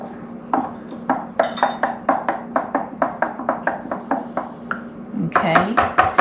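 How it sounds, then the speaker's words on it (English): A wooden spoon stirs potato sourdough starter in a bowl, giving a quick, steady run of close clinks and knocks against the bowl's sides, followed by a brief scraping swirl at the end. "we're going to take a wooden spoon and just kind of stir that starter up"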